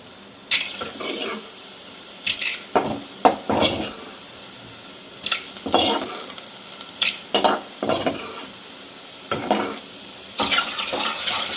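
Mushrooms with fresh coriander and salt stirred in a hot pan, giving a steady sizzle broken by a run of irregular scraping stirs, close and moderately loud.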